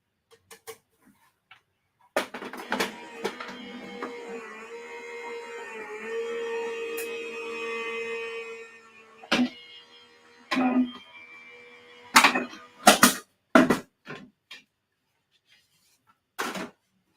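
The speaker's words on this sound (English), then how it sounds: "And I'm going to run it through the machine." A die-cutting machine cranks a die through card paper, giving a steady mechanical whir and grinding rollers for several seconds, then scattered clicks and clacks of handling the plates, all without speech.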